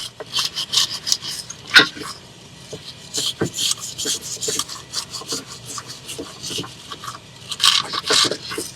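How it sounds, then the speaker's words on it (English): A Lexus LS460 rear brake pad surface is scraped clean in short, gritty rubbing strokes, irregular and close, with a few sharper scratches and no talking. "we're going to clean the brake pad surface here"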